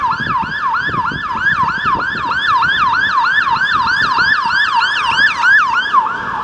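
A loud ambulance siren wails continuously in a fast, rising-and-falling pattern over low traffic rumble on a Chiang Mai street, close by throughout.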